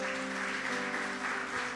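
A congregation claps for the Lord during a Spanish-language church service, a steady wash of applause carrying throughout at moderate, even loudness with faint tonal sounds underneath.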